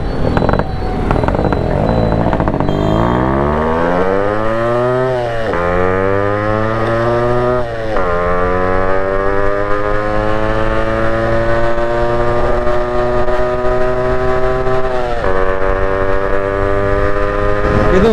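A Yamaha RX series motorcycle with an expansion chamber exhaust revs hard and close, its two-stroke whine climbing in pitch through repeated rises with brief dips between, loud and alone without talk.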